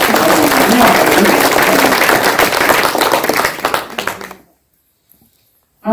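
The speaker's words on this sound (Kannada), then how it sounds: "ಎಲ್ಲರೂ ಜೋರಾಗಿ ಚಪ್ಪಾಳೆ ತಟ್ಟೋದ್ರ ಮುಖಾಂತರ" At a vachana gathering in Malavalli, an audience claps loudly and steadily for about four seconds. The dense applause then cuts off into near silence before a loud sound bursts in at the very end.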